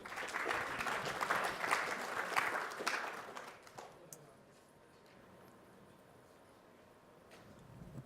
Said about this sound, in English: If you could give him a round of applause just to get things started